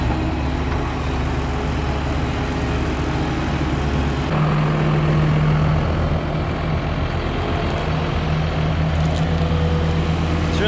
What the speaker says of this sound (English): I'll let Eric run the skid loader